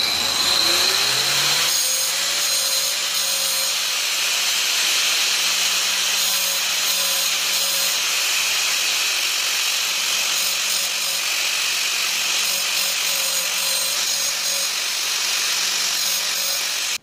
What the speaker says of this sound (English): Okay, so now we can proceed to sharpening this blade.